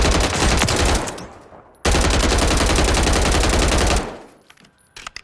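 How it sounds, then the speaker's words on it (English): Sustained automatic gunfire from a shooter video game weapon with easily controlled recoil, two loud dense bursts of rapid shots separated by a brief pause, then fading to quiet. "I don't know what happened, but I just missed all my shots."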